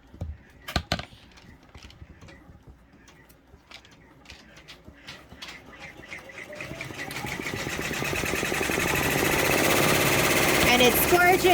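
An embroidery machine stitching freestanding lace for a pumpkin design starts with a few clicks and taps, then builds into a fast, loud, steady mechanical rattle of rapid needle strokes that grows stronger over time.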